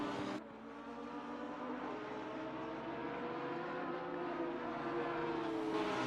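GT3 racing cars, a Lamborghini and a Porsche, race on the Barcelona circuit in a video game. Their engines whine at high revs and drone steadily, loud and continuous, with a brief dip near the start.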